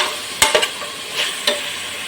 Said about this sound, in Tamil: எடுத்து வச்ச பச்சை மிளகாய், புதினா, கொத்தமல்லி, கருவேப்பிலை சேர்த்துடலாம். கொஞ்சம் நல்லா வதங்கி வரட்டும்.